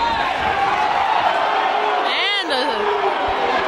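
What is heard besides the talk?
basketball crowd disagreeing with a foul call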